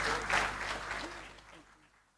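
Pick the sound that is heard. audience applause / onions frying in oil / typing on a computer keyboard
audience applause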